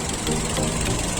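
A Toyota Vios Limo engine idles at close range, a dense, steady rumble with a faint knocking texture that holds unchanged for about a second, no speech.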